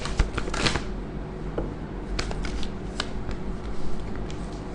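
Tarot cards are shuffled continuously at close range with crisp riffling and flicking over a steady background hum, with no talking.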